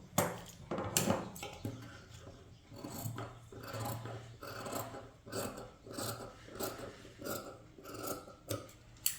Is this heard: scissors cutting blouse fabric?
yes